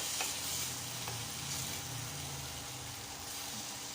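Egg frying in a pan for temple-festival style Pad Thai, a continuous close hiss and crackle of hot oil with occasional stirring scrapes, steady and even throughout with no talking.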